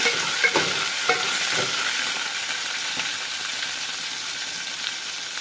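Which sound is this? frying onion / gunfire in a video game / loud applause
frying onion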